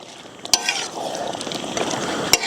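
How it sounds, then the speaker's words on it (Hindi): Beef karahi being fried bhuna-style and stirred in a wok gives a loud, close, busy sizzle, with two sharp metallic clangs from the stirring utensil striking the pan. "तो इसको भी अभी भूनना है हमने 10 मिनट और"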